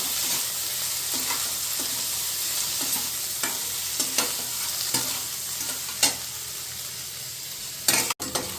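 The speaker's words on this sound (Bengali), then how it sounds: "আলুটা দিয়ে 1 মিনিটের মতো আমি ওটাকে ভাজা ভাজা করে নেব পেঁয়াজের সাথে" Potatoes fry with onions in a pan, giving a steady loud sizzle broken by regular clacks of stirring and a sharp knock near the end.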